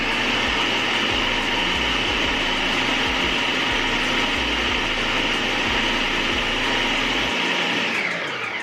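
A food processor whirs continuously at full speed blending homemade cashew butter with tart fruit, a loud dense motor roar with a faint grinding rattle beneath, cutting off abruptly near the end.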